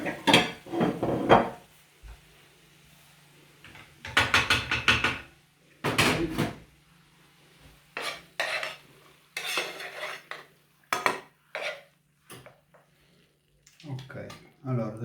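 Plates and cutlery clink and scrape in short bursts as gorgonzola and walnut risotto is served, close and clear, with talking between the clatters.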